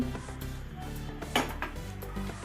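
A kadai set down on a stove, a single metallic clunk with light clattering around it, close and fairly quiet over a low background hum.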